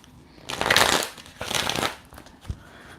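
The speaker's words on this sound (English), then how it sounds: "Okay, we're gonna shuffle some more then." Tarot reading cards shuffled by hand in two bursts of crisp riffling, close and clear, then a single soft tap as the deck settles.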